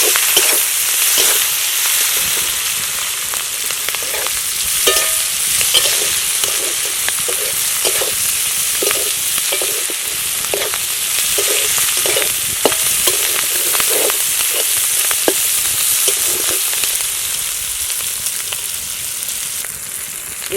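Chopped onion and slit green chillies sizzle steadily in hot oil for a Malabar spinach (pui bituli) village dish, with a continuous frying hiss and regular stirring scrapes throughout, no voices.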